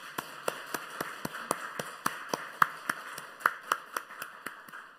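A church congregation at a Sunday morning worship service claps in a brisk, regular rhythm, each clap crisp and close, continuing evenly for the whole stretch with no talking.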